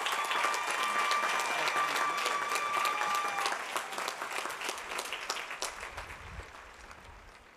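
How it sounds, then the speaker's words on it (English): At a Cal Poly San Luis Obispo commencement, the audience applauds an honorary degree recipient with sustained, thick clapping that thins and fades toward the end. "Let's give him one more round of applause."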